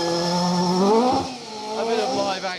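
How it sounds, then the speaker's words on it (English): A BMW E30 M3 rally car runs a historic rally stage at the Historic Rally Festival at Weston Park. Its engine note climbs, then falls away as it passes, close and loud, with a voice talking over it. "a bit of live action and atmosphere as you see Steve Hartness in the BMW E30 M3"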